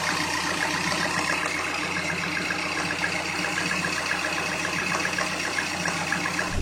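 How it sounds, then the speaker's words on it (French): A cold Peugeot THP petrol engine idles with a steady, rough, tractor-like clatter, its timing chain rattling in a continuous rapid ticking near the front of the motor, heard up close with no talk. "Si votre THP fait un bruit de tracteur ou si vous entendez un claquement au niveau de la distribution"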